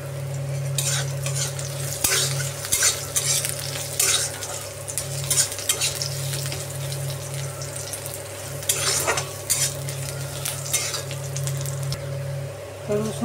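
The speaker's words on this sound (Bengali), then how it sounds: "রসুন আর পেঁয়াজটা ভালোভাবে ভাজা হয়ে গেছে।" Crushed garlic and chopped onion sizzle steadily in hot oil in a pan for a radish vegetable curry, with repeated scraping stirs of a spatula, a constant kitchen hum underneath and occasional talking.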